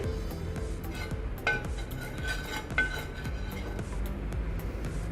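A metal tawa being handled while butter is added for bread pizza, with light clinks and scrapes of pan and utensil over a low steady kitchen background, a few sharper taps standing out, no talking.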